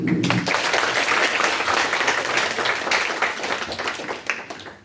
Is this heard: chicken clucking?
no